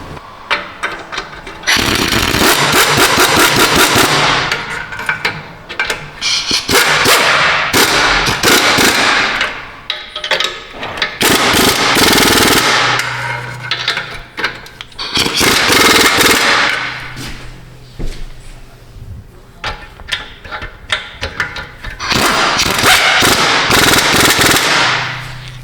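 An impact gun drives the bolts home on a Chevy/GMC 4L60E transmission during replacement: loud, close bursts of rapid rattling hammering, several runs of a few seconds each separated by short pauses.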